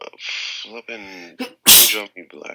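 A single sharp, loud sneeze bursts out between bits of speech, with people talking just before and after it.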